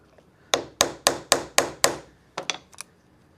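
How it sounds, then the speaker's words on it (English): A tool is struck to seat it in a socket while making a measuring belt: six sharp, evenly spaced hammer taps close by, followed by a few quicker, lighter strikes. "You're going to strike and turn the tool."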